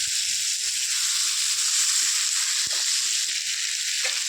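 Pointed gourd sautéed in a pan with a little sugar, giving a steady bright sizzle and hiss with soft stirring knocks underneath. It is close and continuous, with no voices.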